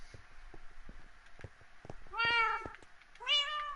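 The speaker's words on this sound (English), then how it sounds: "Come on, kitty." A cat in the video game Minecraft gives two distinct meows near the end, following a run of quiet clicking and tapping.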